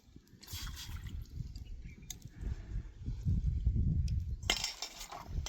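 Water pours into a metal pot set on a wood-fired stove, a steady liquid splash over low crackling rumble, with a few light clinks near the end.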